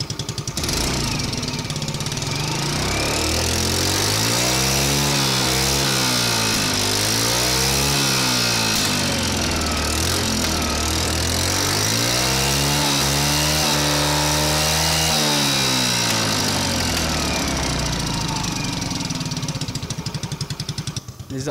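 A modified 2018 Yamaha Ray ZR scooter engine revved repeatedly close by, loud buzzing rises and falls in several swelling waves over a steady idle, with faint talk beneath.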